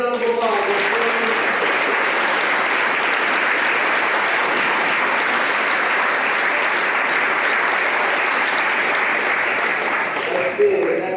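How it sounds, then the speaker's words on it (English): Long, steady applause from an audience at a middle school celebration honoring students, dense and loud for about eleven seconds, with a voice faintly heard as it tapers at the start and end. "Please give them a big round of applause."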